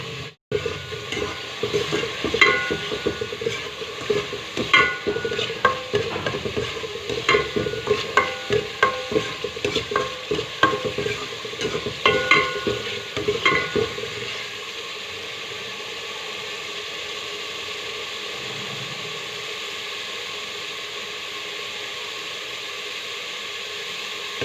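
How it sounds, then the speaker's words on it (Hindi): Chana dal masala fries and is stirred in hot oil over a medium flame, giving steady sizzling with frequent scraping stirs for about fourteen seconds before settling into a quieter, even sizzle. "अब ये ऑयल के अंदर फ्राई करूँगी मैं इसको, मसाले को"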